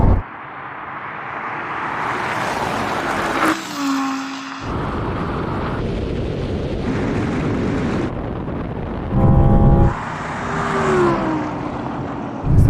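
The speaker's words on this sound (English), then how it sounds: "Oh, RS6 is so quick off the line." Audi RS6 launching hard off the line in a drag race, a loud, close engine roar rising through gear changes with sharp shifts, mixed with other Audi RS cars racing alongside.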